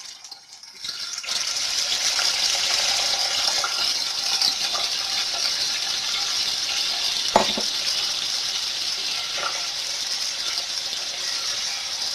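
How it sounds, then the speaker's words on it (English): Chicken fries in hot oil with a loud, dense, continuous sizzle that starts abruptly after a short quiet lead-in and holds steady throughout, broken by an occasional pop. "For you to know if your oil is ready to fry, just drop one."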